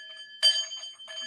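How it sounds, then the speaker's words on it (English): A sound bowl gives one clear strike, then a ringing, bell-like tone with steady high overtones that rings softly and fades, with a second light touch near the end. "Oh, sound bowls."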